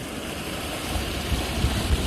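Floodwater from heavy overnight rain rushes over field embankments in a continuous broadband roar, with low gusty wind buffeting the microphone and no voices.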